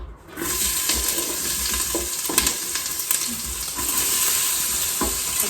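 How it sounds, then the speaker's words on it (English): Diced green peppers and onions sautéing in olive oil give a steady, close sizzle throughout, with a few brief scrapes and clinks from stirring. "we're gonna go ahead and get these sauteing"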